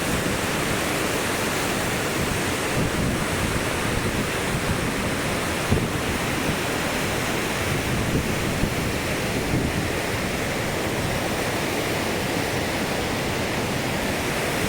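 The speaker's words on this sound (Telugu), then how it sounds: "సో వాటర్ వచ్చే విధంగా ఉంది ఎంత ఫోర్స్ వస్తున్నాయో" Floodwater rushing with force through the Prakasam Barrage at Vijayawada, a steady, loud, broadband roar of churning water that holds constant throughout, with no voices heard.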